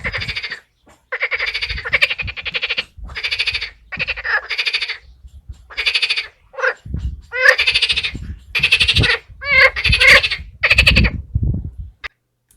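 Marsh frogs in a garden pond call loudly and close, in repeated bursts of rattling, quacking croaks separated by brief pauses, several calls overlapping toward the end.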